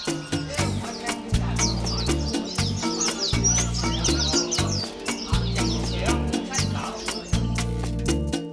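Many small birds chirp and tweet in quick bursts at Hong Kong's Bird Market. The calls are bright and busy, heard under loud background music.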